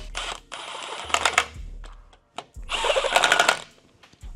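A power tool whirs in two bursts, each about a second long, as bolts are tightened on an 8HP gearbox for a custom Cobra build. Quieter clicks and handling noises fall between and after the bursts.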